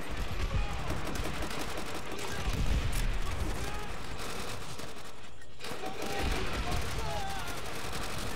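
Rapid gunfire in Call of Duty: World at War, a busy stream of shots and bursts layered over dense battle noise, loud and continuous, with a voice talking underneath.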